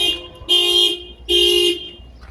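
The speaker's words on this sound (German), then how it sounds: "Wenn man es nicht macht, geht jetzt mal die Hupe an." Car horn honking on a vehicle opened without unlocking first, two loud near blasts of equal length with a short gap between them.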